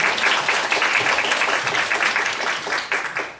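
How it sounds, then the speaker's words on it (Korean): Steady applause from an audience of parents at an indoor education information session, loud and continuous for a few seconds with no talk over it. "큰 박수 부탁드리겠습니다."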